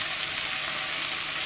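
Onions and carrots fry in a pot, giving a steady, even sizzle with a soft hiss and no pauses, heard alone at close range.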